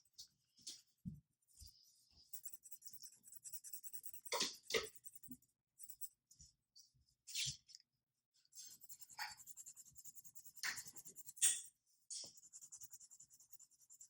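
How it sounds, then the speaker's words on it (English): Colored pencil scratching and rubbing on paper while coloring a cat's nose and mouth, a soft, intermittent scraping of short strokes with brief pauses between them. "So I'm going to use a color pencil for the nose"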